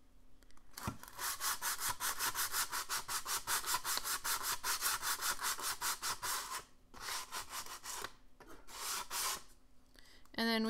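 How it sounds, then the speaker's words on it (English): Rapid back-and-forth sanding of a wooden dollhouse doorway, loud close rhythmic rasping strokes in a long continuous run, then a pause and a shorter burst. "I'm gonna go ahead and sand this."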